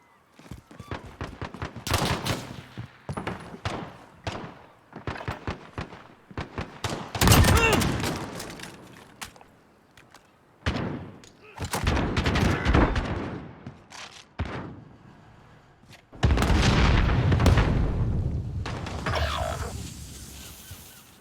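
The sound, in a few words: gunfire in the video game Call of Duty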